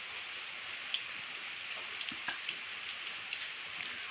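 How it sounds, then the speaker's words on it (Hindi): Rain falls steadily as a soft, continuous wash of hiss, with scattered faint drips and taps on surfaces and no voices. "आज जो बारिश हो रही है"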